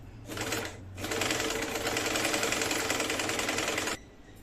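Sewing machine stitching net cloth onto a blouse lining, running in a short burst, pausing briefly, then whirring steadily close by for about three seconds before stopping.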